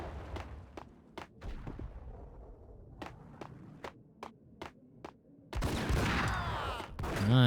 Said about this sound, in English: Good old shotgun.